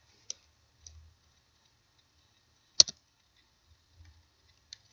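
Sparse clicks of C code being typed on a computer keyboard, a handful of isolated keystrokes with one sharper double tap in the middle, close and quiet against silence.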